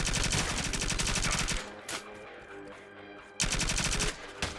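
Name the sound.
rapid-fire SMG gunfire in video game CyberCorp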